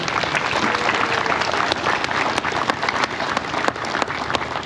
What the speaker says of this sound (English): All right, how about a round of applause for them?